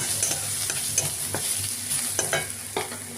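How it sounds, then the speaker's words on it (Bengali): Cumin seeds, bay leaves and dried chillies tempering in hot oil, a loud, continuous close sizzle with a few stirring taps scattered through, no voices. "জিরে, তেজপাতা আর শুকনো লঙ্কা ফোড়ন দিয়ে দিলাম"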